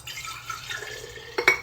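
Water pours into a glass pasta sauce jar for a spaghetti sauce, a soft steady trickle that ends in a brief louder splash, with no talking.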